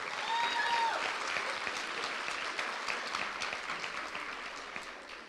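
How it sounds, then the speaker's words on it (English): A university auditorium audience applauds a soul music group, with steady, dense clapping from a large crowd that fades slightly toward the end. "Give our men of soul another round of applause."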